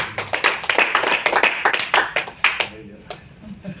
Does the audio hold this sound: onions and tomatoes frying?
no